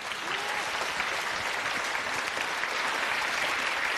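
A studio audience at a Chinese job-seeking talk show breaks into steady, sustained clapping, a dense even wash of applause lasting a few seconds with no voices on top.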